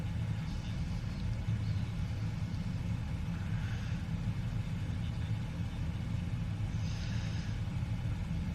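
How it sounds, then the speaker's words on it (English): Boeing 777-200 engines in a flight simulator game, a low muffled steady rumble heard as if from inside the cockpit, continuous and fairly quiet with no talk. "I can barely hear them engines going right now,"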